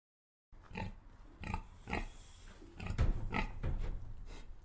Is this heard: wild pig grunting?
yes